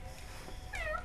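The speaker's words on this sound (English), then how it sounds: "Oh, the cats?" A cat gives a short, rising and falling meow near the end, heard over a steady background hum with no speech.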